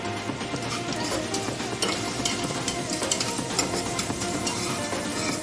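Dense crackling sizzle with scraping and clinking of a spoon stirring bay leaves and asafoetida in oil in a pan, steady and close, no voices.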